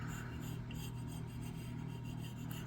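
A file rasps steadily along the grind of a True Temper Flint Edge Kelly Works cruiser axe head, a continuous close scraping with faint rhythmic pulses from the strokes and no speech.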